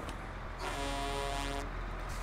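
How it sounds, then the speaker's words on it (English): A large truck in SnowRunner sounds a deep, loud air horn in one sustained blast lasting about a second, close and alone over engine rumble. "Why such a big horn, though?"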